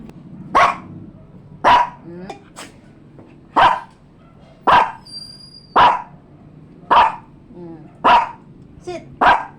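Several pet dogs bark in a steady series of about nine loud, sharp barks spaced roughly a second apart, close by, with faint background sound between them.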